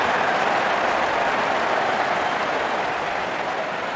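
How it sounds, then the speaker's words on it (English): Crowd applause at an India vs England T20 World Cup semi-final cricket match, a dense, steady roar of clapping filling the stadium for the whole stretch, loud and continuous with no speech over it. "Wonderful 50 and the crowd applauds"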